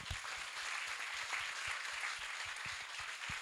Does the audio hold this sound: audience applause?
yes